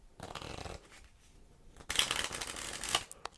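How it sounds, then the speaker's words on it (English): Stiff, heavy playing cards riffled twice in quick succession, each a bright crisp rush of flicking cards up close, with a softer ruffle between them. "let's give it a shuffle."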